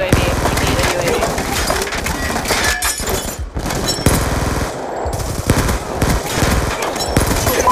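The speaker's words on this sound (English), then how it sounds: "I can shoot through walls." Rapid automatic gunfire from Call of Duty Black Ops II on the Nuketown 2025 map, loud sustained bursts with brief gaps, crackling and splintering impacts mixed in.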